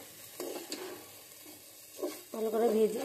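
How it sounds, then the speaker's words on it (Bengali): Rice frying in a pot for homemade chicken biryani, stirred with scraping strokes over a steady, soft sizzle; the stirring grows louder toward the end. Faint talk is heard in the background. "চালটা একটু ভালো করে ভাজা হলে ঝুরঝুরে হবে।"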